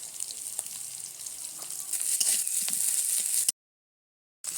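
Ginger paste hits hot oil with a steady, bright sizzle and scattered crackles, growing a little louder before cutting off abruptly, then a short silence.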